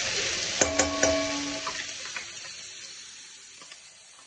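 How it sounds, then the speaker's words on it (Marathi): Ground masala paste with tomato fries in oil with bay leaves and cloves for a tender jackfruit curry, a soft steady sizzle with a few sharp spoon clinks early on, gradually fading, close and without speech. "तेल वेगळं होतपर्यंत हे वाटण आपल्याला छान शिजवून घ्यायचं आहे"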